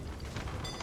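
A brief, dense rumbling crackle with a low boom, like a game lightning strike, loud and close with no voices.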